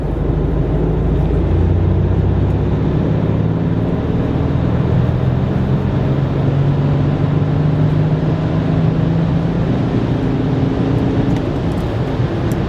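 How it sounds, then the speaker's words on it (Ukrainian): A BMW X4 35d diesel accelerates from about 70 km/h with the throttle floored and no gear change. The engine gives a loud, steady drone whose pitch climbs slowly and continuously for nearly thirteen seconds, with no voices over it. "Ми просто нажимаємо плавно газ в пол, не перемикаючи передачу, двигун просто прискорюється неймовірно."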